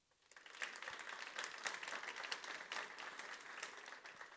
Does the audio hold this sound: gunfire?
no